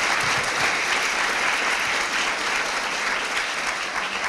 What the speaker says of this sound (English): would you join me in a nice round of applause for Kelly, Tracy, and Brandon?